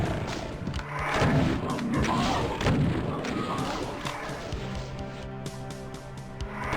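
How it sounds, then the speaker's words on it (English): A ceiling crusher in Final Doom: TNT Evilution grinds down with heavy repeated thuds and booms alongside gunfire and game effects, while a player talks over it. "Hold on, the ceiling's coming down and I'm probably in the worst position."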